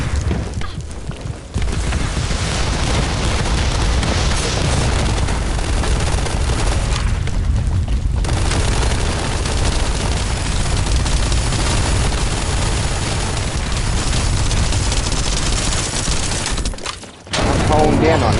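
Constant heavy gunfire and booming explosions from The First Descendant video game, a loud, dense wall of noise running almost unbroken, dipping briefly near the start, around the middle and near the end, with a voice talking over it.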